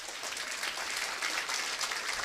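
Sustained applause from a seated audience at a meeting, a dense, even patter of clapping that holds steady throughout at moderate, slightly distant level.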